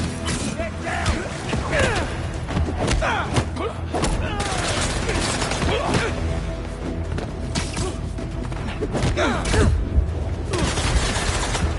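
Rapid bursts of gunfire crackle through a Spider-Man 2 fight on PS5, mixed with thuds, impacts and shouting voices over a dense, continuous battle din.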